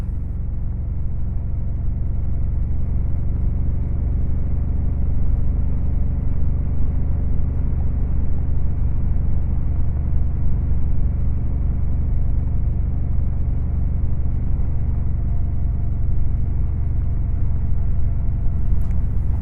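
A motorcycle cruising on the German Autobahn gives a loud, constant engine rumble and wind roar that holds steady throughout, with no break and no voices.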